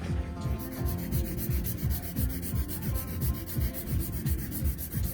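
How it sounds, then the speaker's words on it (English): A 100 grit nail file is worked back and forth across a fingernail, making quick, close, steady rasping strokes in a regular rhythm with no talking. "I'm gonna use my fantastic file in 100 grit."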